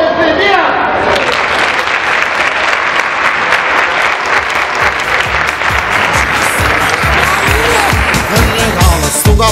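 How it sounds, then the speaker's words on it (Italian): Loud applause and cheering from a circus audience fill the whole stretch, dense and continuous, with rhythmic beats and music-like accents emerging toward the end. "c'è un applauso con Leone"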